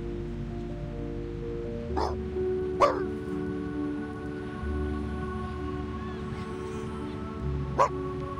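A puppy in the game Reverse: 1999 gives three short, sharp yips spaced a few seconds apart, over a steady bed of game music.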